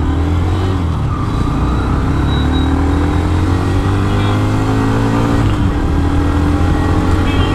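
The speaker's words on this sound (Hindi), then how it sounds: "सो ऐसा कुछ साउंड है। सो थोड़ा सा बाइक को पुल करते हैं" Hero Xtreme 125R motorcycle engine pulling and accelerating while riding on the road, a loud continuous drone with rising pitch sweeps as it gains speed, heavy wind noise throughout.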